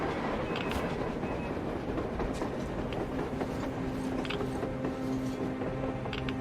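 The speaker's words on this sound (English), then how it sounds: "A damn train on the surface!" Train moving on the surface in the Metro Exodus video game: a steady rumbling roll with faint rhythmic clatter and a low mechanical hum, continuous and fairly distant, with no talk over it.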